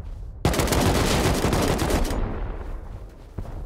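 A long, loud burst of automatic gunfire rattles in a survival video game during a modded PvP raid. A rapid stream of shots lasts about two seconds and fades into echoing rumble, followed by one more distant shot.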